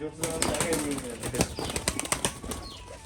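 A pigeon bred for tumbling flaps its wings in quick, papery bursts close by, with faint cooing mixed in and a voice talking over the flutter.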